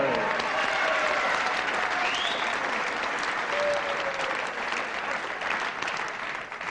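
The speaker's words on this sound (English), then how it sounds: "Everybody clapping here. I mean, even the referee, everybody at ringside." A wrestling crowd at ringside applauds in a dense, sustained wash of clapping that fills the whole stretch and fades slightly toward the end.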